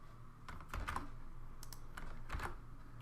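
Code being typed on a computer keyboard, quiet close clicks in short uneven bursts with a few louder key strikes, heard alone without talk.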